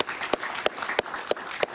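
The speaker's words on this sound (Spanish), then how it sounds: "Un aplauso para él," Studio audience applauding a Nicaraguan writer and politician arriving as a TV interview guest, a soft wash of clapping punctuated by five evenly spaced sharp, close claps roughly every third of a second.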